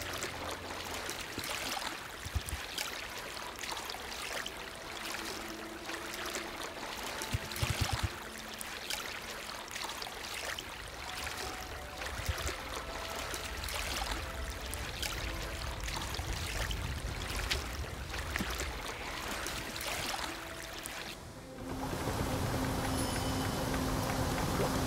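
A river flows steadily in the Lost Ark video game, a soft continuous rushing and trickling wash heard quietly in the background, with faint tonal game music alongside.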